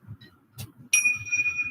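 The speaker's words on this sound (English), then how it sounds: "just listen to the sound of the bells" Bells ring during a breathing exercise: a soft chime, then a brighter ringing tone that sustains and slowly fades, heard over a low murmur of background voices.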